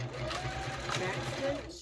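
A sewing machine stitches a straight 1/4 inch seam on a simple fabric bag, a steady close whirring hum with a rapid needle rhythm under a voice.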